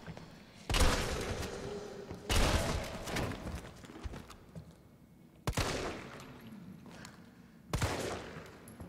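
Resident Evil 3 video game gunfire: four loud, separate shots crack out every two seconds or so, each leaving a brief, decaying tail above a low background.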